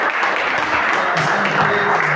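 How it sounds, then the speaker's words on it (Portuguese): A church congregation applauding together, a dense, continuous wash of many hands clapping in a large room, fairly loud and steady, with a voice faintly heard underneath. "Você pode aplaudir Jesus por essa palavra."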